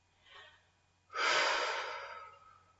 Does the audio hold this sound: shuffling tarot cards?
no